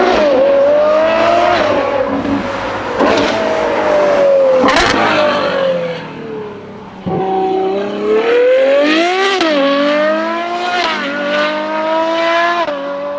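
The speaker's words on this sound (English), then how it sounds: "We're going to measure just how loud this exhaust is." A Ferrari 812 GTS with a Novitec exhaust revs hard several times, each blip climbing to a sharp, loud V12 howl and then dropping back, with quick bursts in close succession.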